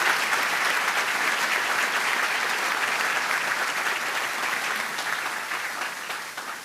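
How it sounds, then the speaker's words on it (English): A crowd at a university basketball coach's introduction claps for board members, a broad steady applause filling the room for several seconds before tapering slightly at the end, with no talk over it. "Give them a round of applause."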